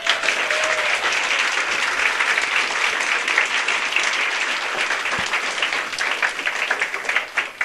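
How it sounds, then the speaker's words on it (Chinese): A seminar audience claps together on cue, a dense, even burst of applause that holds steady for several seconds with no talking over it. "我没讲话，你要拍掌，可不可以配合？"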